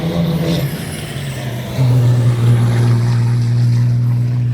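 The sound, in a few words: racing truck tires squealing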